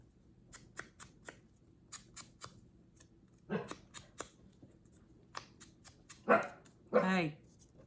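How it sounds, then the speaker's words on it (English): Dogs playing indoors give a couple of short, close barks and growly yips near the end, after a run of crisp snipping and rustling from scissors cutting paper strips for a junk journal. "the dogs have got to play a little bit"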